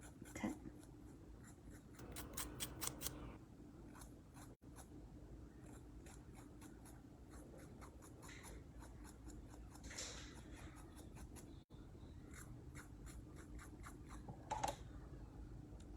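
A nail file rasps across a fingernail in quick, faint strokes, repeated rhythmically at close range in a quiet room, with a slightly heavier flurry of scraping early on.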